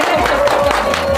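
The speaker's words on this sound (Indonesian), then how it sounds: "Tepuk tangan dong." An audience claps in steady, dense applause throughout at a corporate event, with a faint tone running beneath and a few crowd voices mixed in.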